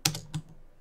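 Typing on a computer keyboard while entering a formula in an Excel spreadsheet, two sharp close key clicks in quick succession followed by quiet.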